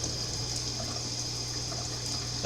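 A little water poured onto moss gathered for a terrarium, a soft steady trickle that runs evenly and quietly for a couple of seconds, with no talking.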